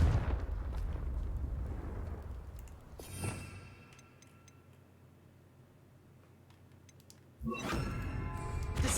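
A Confringo blasting spell explodes in Hogwarts Legacy, a heavy boom that decays into a quiet lull before a second loud burst erupts near the end, with no talking.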